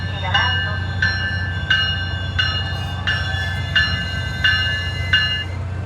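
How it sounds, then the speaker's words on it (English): A SunRail commuter train pulling into DeBary station, sounding a steady run of repeated tonal chimes or bell strokes about every 0.7 seconds over a low continuous rumble of the arriving train. "Well, I guess this is my train."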